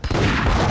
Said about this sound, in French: Oh, la grenade!